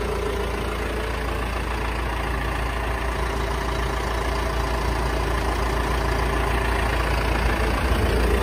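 John Deere 6120M tractor engine idles with a steady low diesel rumble and faint mechanical hum, constant and close, with no talking.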